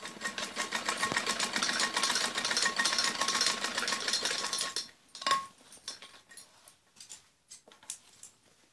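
A sewing machine runs steadily for about five seconds, stitching a blouse strip with large stitches, then stops, followed by a few scattered clicks and handling sounds.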